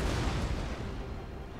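Cannon fire during a naval battle between Dutch and Danish warships in a video game: a dense, loud barrage of booming shots and crackling bursts that rumbles continuously and fades slightly, with no speech.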